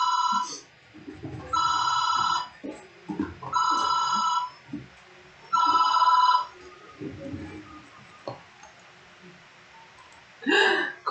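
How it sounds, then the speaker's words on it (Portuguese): A telephone rings in a room during a live-streamed lesson: several loud, evenly spaced ring bursts about two seconds apart, with a person speaking in the gaps between rings. "O telefone tá tocando, gente."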